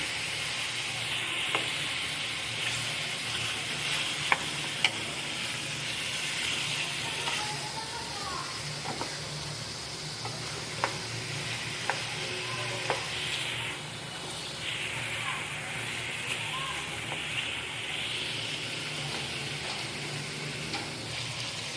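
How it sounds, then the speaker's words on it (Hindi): Chicken for black pepper karahi fries with a steady close hiss and sizzle, broken by occasional scraping stirs and a few faint utensil clicks throughout. "बस अब इसको थोड़ा इस तरह करके चला लेंगे, इस तरह करके थोड़ा भून लेंगे।"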